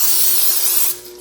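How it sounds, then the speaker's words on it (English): A can of cooking spray hisses onto a pan in one loud, close burst lasting about a second, then cuts off sharply, for toast rolls cooked in an electric skillet. "And I'll spray some pan."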